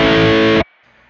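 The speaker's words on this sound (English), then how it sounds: "lagyan natin ng distortion overdrive block." An electric guitar chord played through a distortion overdrive block on a Joyo Gem Box III multi-effects unit, loud and heavily saturated, then cut off abruptly into near silence.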